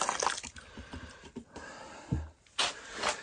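Water poured and splashing into a soaking tub holding dirty Gene parts for cleaning, with uneven sloshes and drips close by, loudest near the start and end.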